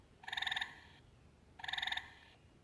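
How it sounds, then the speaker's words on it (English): A gray tree frog gives two loud, trilling calls, each a rapid musical rattle lasting under a second, separated by a short pause. "We have tree frogs, a gray tree frog."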